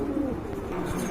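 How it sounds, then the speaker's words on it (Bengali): Pigeons being sold by the pair coo softly nearby, low throaty burbling calls over a steady background hum. "আরেক জোড়া কবুতর দেখতে পাচ্ছেন"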